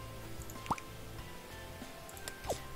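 Water drips from a watering can in the Scribblenauts Unlimited video game: two separate, bright droplet plips spaced well apart over a quiet, steady game background.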